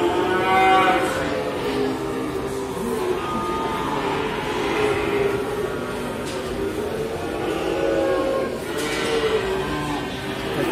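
Black calves moo repeatedly on a cattle farm in Indonesia, their low, drawn-out calls close and fairly loud over a steady background rumble, with no talk.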